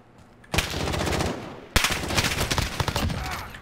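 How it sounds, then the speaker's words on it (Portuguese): Automatic turret gunfire in Modern Warfare: two long, loud bursts of rapid fire, the second starting abruptly after a brief gap, with no speech over them. "Botou uma torreta ali. Sentinela, sei lá. É uma torreta automática, né?"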